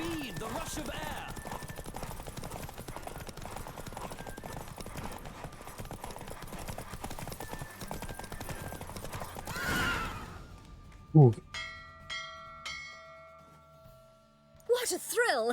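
A horse gallops in rapid, dense hoofbeats through a race in The Witcher 3, then the pounding stops and sharp loud neighs and snorts ring out near the end, with game voices talking during the run.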